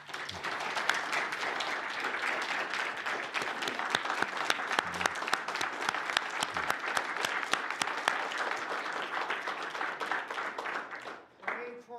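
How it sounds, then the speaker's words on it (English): A room full of people applauding after a Holocaust eyewitness talk, with thick, continuous clapping and individual sharp claps standing out, tapering off near the end as a voice comes in. "Let's give John a round of applause."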